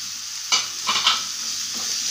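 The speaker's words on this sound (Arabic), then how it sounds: "غادي نشحر هاد الفلفله" Red and yellow bell peppers with onion sautéing in a pan, a steady close sizzle with a few louder stirring scrapes and clatters, no talking.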